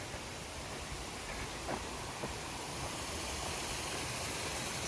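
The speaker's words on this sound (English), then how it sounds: "Some really pretty little waterfalls." A soft, continuous wash of flowing water from small falls on the Appalachian Trail, fairly quiet and even, with a few faint splashes and rustles.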